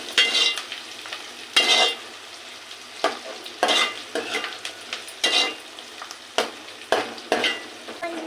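Onions fry in hot oil with a soft continuous sizzle, broken by repeated scraping stirs of a spoon in the pan at a close, moderate level.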